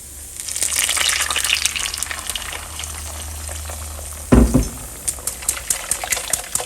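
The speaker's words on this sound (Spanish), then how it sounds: "En una cacerola vamos a agregar lo que licuamos, le vamos a agregar un chorrito de aceite." Blended sauce poured into a saucepan with a splash of oil gives a steady close sizzle and frying hiss, broken near the middle by a louder splash or clatter, then continuing with crackling pops.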